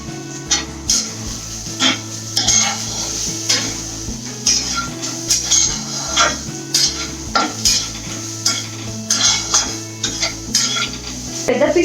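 Chopped onions, cut into large pieces, cook in a pan for mutton curry, with steady stirring scrapes and a soft continuous sizzle over nearly twelve seconds, the utensil clinks recurring in an uneven rhythm close by.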